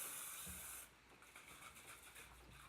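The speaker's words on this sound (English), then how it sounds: "I usually use canola oil spray or olive oil spray, whatever I have on hand." A short hissing burst of cooking oil spray for under a second, then a quieter sizzle lingers with faint rustling.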